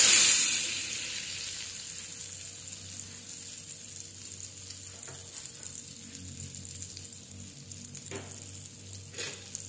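Butter hits a hot pan that already holds a splash of Sprite for cooking shrimp and fish, flaring loudly at first, then settling into a steady, softer sizzle with occasional crackles and a couple of spoon clinks.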